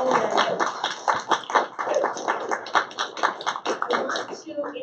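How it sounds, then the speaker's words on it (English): An audience at a women-in-tech awards ceremony claps in fairly close, distinct rhythmic bursts, with a voice speaking over the clapping through much of it. "Another round of applause."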